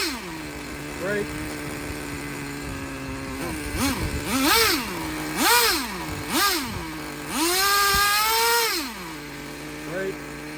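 A used Traxxas T-Maxx 2.5 nitro RC truck engine idles with a buzzing drone, then revs up in several rising whines, one held longer, before settling back to idle.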